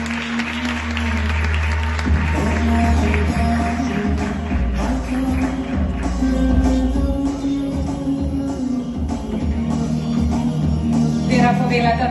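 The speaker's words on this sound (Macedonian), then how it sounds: "Еден аплауз ве молам." A fashion show audience in Macedonia applauds steadily for about twelve seconds, dense clapping filling the hall over background music.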